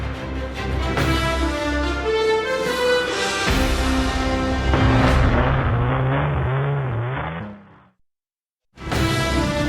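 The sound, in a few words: car doing burnouts at a Maryborough hooning hotspot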